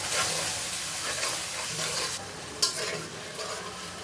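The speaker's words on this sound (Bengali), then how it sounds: "দেখো মশলাটা সুন্দর করে কষিয়ে নিব।" Onion, garlic, turmeric, chili powder and salt sizzle as they are stirred in a hot pan, a dense close frying hiss with a spatula scrape partway through and no talking.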